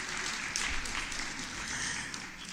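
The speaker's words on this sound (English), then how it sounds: "So please give them another round of applause." Steady applause from a conference audience for a panel at a development forum, a dense, even wash of clapping that holds at a constant moderate level throughout.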